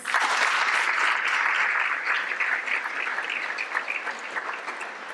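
A school board meeting's audience gives a sustained round of applause honoring top ten students, dense and steady clapping filling the room, easing slightly toward the end.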